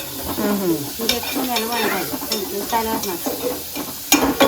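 Chips frying in hot oil, a steady sizzle with stirring scrapes throughout, a sharper clatter near the end, and a voice talking over it.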